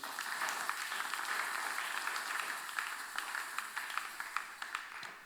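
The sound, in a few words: congregation applauding to acclaim Jesus in church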